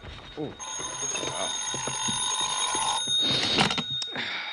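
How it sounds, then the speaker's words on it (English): A telephone rings in an old-time radio drama, steady electronic tones with harmonic bands repeating over several seconds, fairly close and clear, with soft voices and rustling of someone waking in bed. "my phone rang the next morning"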